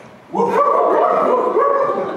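A man imitating a dog during a stage show: a human voice lets out a long, wavering bark-like howl lasting well over a second, close and loud over faint room noise.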